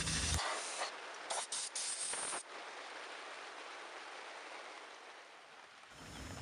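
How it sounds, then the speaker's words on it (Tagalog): An air compressor blowing dust off the brake parts of a 2015 Toyota Hilux gives loud, sharp hissing bursts in several quick blasts, then a long softer steady hiss and one more burst at the end. "So, ginamit lang nga lang natin itong compressor."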